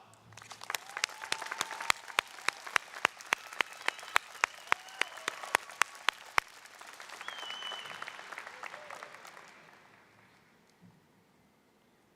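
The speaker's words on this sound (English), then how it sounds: "Let's take a moment to recognize our great supports and give them a round of applause" Graduates at a 2021 Horizonte Instruction and Training Center graduation applaud their families and friends, a crowd's steady clapping with a few sharp, close claps standing out over roughly ten seconds before it fades away.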